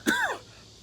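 A single short throat-clearing cough from a congested adult, one sharp rasping burst that trails off within half a second, close to the mic and alone, with no speech.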